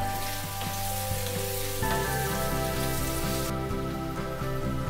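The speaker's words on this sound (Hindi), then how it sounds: "इसको अब मैं एक चम्मच दे के तेल को इसमें भून देती हूँ।" Boiled suran, elephant foot yam, fries in a spoonful of oil in a pan, a steady close sizzle with occasional stirring scrapes and a low humming tone underneath, no voices.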